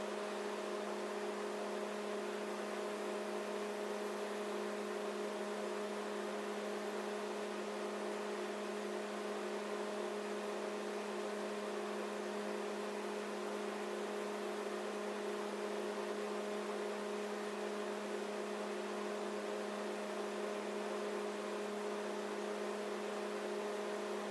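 A microwave oven cooking eggs runs with a steady, even hum and tonal whine, unbroken from start to finish, with no voices.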